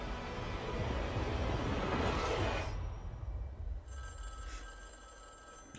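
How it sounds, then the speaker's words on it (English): Telephone bell rings loudly and steadily inside the video game Fortnite during a Galactus event, a continuous electronic trill that cuts off about two-thirds through, leaving quieter game ambience. "Okay, phone call."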